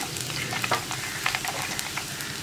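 Ginger and garlic sautéing in oil for Kottayam-style fish curry, a constant light sizzle with scattered clicks and scrapes of stirring in the pan, no voices.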